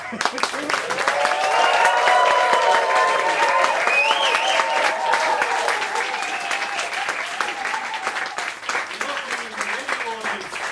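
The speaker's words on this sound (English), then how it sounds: "The crowd in the studio tonight is giving the Marx Brothers a great ovation." A television studio audience gives a long, loud ovation for a comedy act, dense applause with cheering and voices, gradually fading a little toward the end.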